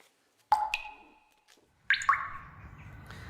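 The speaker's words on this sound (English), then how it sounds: "How does sauce sound? It sounds like this." Sauce sounds in a contemporary music piece: wet, drippy plops and squishy pings, one near the start and a couple more later over a faint low rumble.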